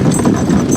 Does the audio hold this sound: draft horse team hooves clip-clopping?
yes